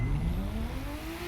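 A tuned car from The Crew 2 street racing revs its engine in a steady, loud, continuous drone whose pitch climbs gradually, carrying on unbroken without speech.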